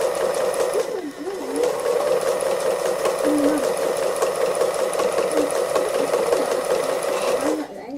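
A sewing machine stitches free-motion embroidery on an autumn owl wall hanging with variegated brown thread. Its motor runs in a steady, rapid whir with fine needle rattle, close and loud almost throughout, pausing briefly near the start and end; a voice speaks over it.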